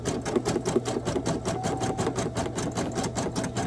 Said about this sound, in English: I just love to watch this machine go.